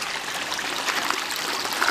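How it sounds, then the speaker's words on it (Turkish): Water pours down the stepped rock tiers of Turgut waterfall in a steady, dense rushing wash, close and fairly loud, with no voices over it. "Basamak basamak suyu akıyor buradan değil mi? Su böyle ahenkten akıyor."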